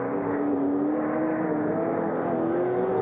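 Australian touring race cars of 1993 at the Lakeside circuit, an engine roaring loud and close at high revs, its pitch climbing steadily while it sweeps toward a hilltop right-hander, overlapping the steady drone of another car.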